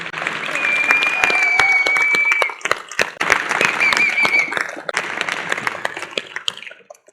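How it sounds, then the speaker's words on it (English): Dense audience applause fills a conference closing session, steady and loud with a brief dip midway, tapering off toward the end while a whistle sounds over it. "I would like to ask for an applause to Sérgio, his team, and all the stakeholder"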